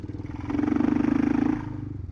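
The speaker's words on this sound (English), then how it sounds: "The amount of tractor torque this thing has, I'm in 2nd gear. Listen to it, it's crazy." Kawasaki KLR650 single-cylinder motorcycle engine pulling hard in second gear on a mountain road with a passenger aboard, a steady low throbbing thump that swells louder in the middle then eases, heard alone without talk.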